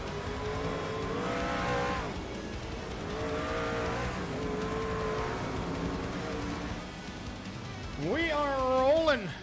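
Simulated race car engines in iRacing at Michigan International Speedway, a field of trucks rolling off pit lane behind a pace car, droning and rising under steady commentary, with a louder rising and falling engine pass near the end.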